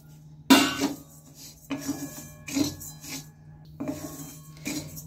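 Dalia (broken wheat) dry roasting in a pan, stirred with a utensil: repeated rasping scrapes and grainy rustles in uneven bursts, close up and fairly loud, with no voices.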